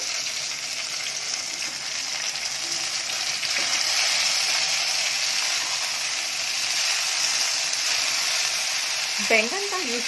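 Eggplant for baingan chilli sizzles and fries steadily in a lidded pan, a constant crackling hiss with a brief voice at the end.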